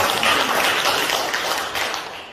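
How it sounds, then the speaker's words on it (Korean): Audience applause at an inauguration ceremony and security lecture in a training hall, a dense, steady wash of many hands clapping together for a couple of seconds, loud and close, gradually thinning toward the end. "다시 한번 박수를 우리가 자축할 필요가 있습니다"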